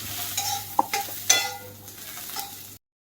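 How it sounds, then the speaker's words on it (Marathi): Onion with garlic and ginger pieces sautéed in a pan, a low sizzle under several clinks and scrapes of a spoon against metal, close and moderately loud, ending abruptly in silence. "हा कांदा थोडासा तपकिरी होईपर्यंत परतून घेऊ आता या कांद्यामध्ये लसूण आणि आल्याचे तुकडे टाकून घेऊ ते देखील परतून घेऊ"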